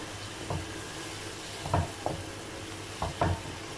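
Raw green mangoes being stirred into achari chicken biryani masala in a pot, with a few scraping, thudding strokes of a spoon over a steady low sizzle.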